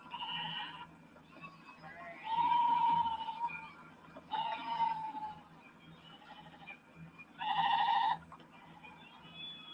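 A goat bleats three times in long, wavering cries spaced a couple of seconds apart, fairly close, over a quiet low hum.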